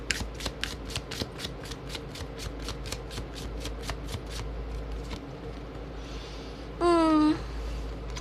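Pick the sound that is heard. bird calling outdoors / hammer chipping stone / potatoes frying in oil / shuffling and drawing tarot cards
shuffling and drawing tarot cards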